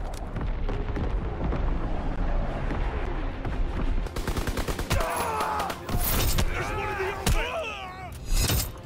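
A WW2 video game artillery barrage rumbles into heavy booms and crackling gunfire, loud and continuous, with radio-style voices calling out over the battle.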